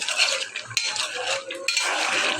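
Fish heads going into a pot of cooked pumpkin and bottle gourd, stirred with a utensil: close scraping and stirring with soft clinks against the pan, steady and continuous, no talking.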